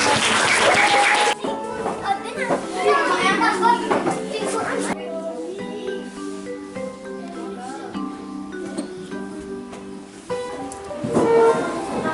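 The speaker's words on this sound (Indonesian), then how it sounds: "Kita kasih tepuk tangan ya" A classroom of children applauds the best group during a hand-drawn batik lesson, a loud dense burst at the start that gives way to children's voices and chatter, with a brief swell of clapping again near the end.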